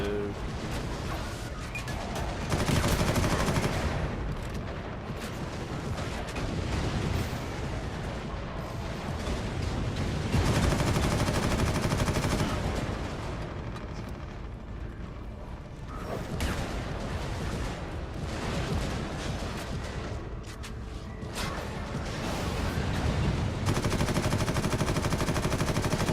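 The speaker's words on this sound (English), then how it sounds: "I fire more bullets than you do." Continuous heavy gunfire from Warhammer 40,000: Eternal Crusade, dense rapid automatic bursts with booming impacts that roll on loudly for the whole stretch, rising and dipping without any clear pause.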